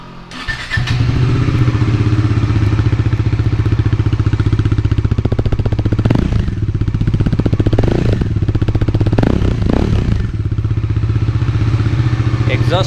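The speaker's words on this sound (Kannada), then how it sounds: "ಸೊ ಬನ್ನಿ ಗಾಡಿ ಸ್ಟಾರ್ಟ್ ಮಾಡಿ ಎಕ್ಸಾಸ್ಟ್ ನೋಟ್ ಹೇಗಿದೆ ಅಂತ ಚೆಕ್ ಮಾಡೋಣ" A 2023 Bajaj Dominar 400 motorcycle starts and settles into a steady, loud idle with a deep thumping exhaust note, rising in two brief throttle blips midway before returning to idle.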